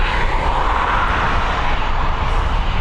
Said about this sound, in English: seeing that 767 up and away out of Dublin